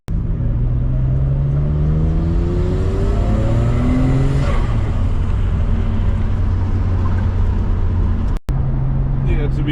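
A Nissan R34 GTR engine idles and pulls away with a loud, steady drone, rising and falling revs and gear changes, close up for nearly ten seconds, with a brief cut near the end.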